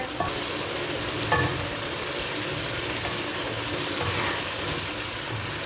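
Minced meat (keema) fries in ghee in a pan for aloo keema, giving a steady, even sizzle that holds at a constant level throughout, with a faint low rumble underneath.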